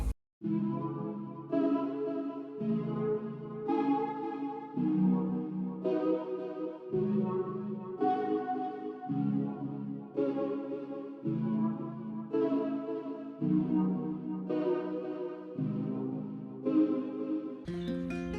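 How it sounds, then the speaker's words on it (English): Smooth R&B keys preset playing a four-chord progression, offset and raised an octave, each sustained chord ringing with a soft delay tail in a slow, even cycle. "So I went to a keys preset again."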